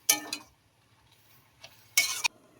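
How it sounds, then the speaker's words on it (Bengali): Drumstick leaves stirred in a pan, heard as two short bursts of spatula scraping and light clinks against the metal, separated by a quiet pause. "এটা আবার আমি একটু খুলে নেড়ে নিচ্ছি সজনা পাতাগুলো"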